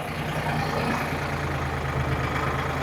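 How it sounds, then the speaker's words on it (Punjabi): Tractors running steadily in fields being sown near the India–Pakistan border, a continuous low engine drone that holds close and even throughout with no talk. "ਆ ਬਜਾਈ ਹੋਈ ਜਾਂਦੀ ਆ ਟਰੈਕਟਰ ਚੱਲੀ ਜਾਂਦੇ ਆ"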